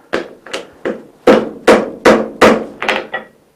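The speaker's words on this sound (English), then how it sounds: "I'm going to hit it one more time. I want to get that down to the bottom and even." Eight or nine sharp, ringing hammer blows land on hot 5160 steel while a hatchet is forged. The strikes come at a steady, close rhythm with short gaps, and the last few are slightly quicker and lighter.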